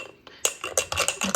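A spoon stirs cornstarch into a little cold water in a bowl, making a quick run of bright clinks and scrapes against the sides, close and fairly loud, with no voices.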